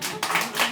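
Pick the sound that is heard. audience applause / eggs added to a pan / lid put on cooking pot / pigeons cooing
audience applause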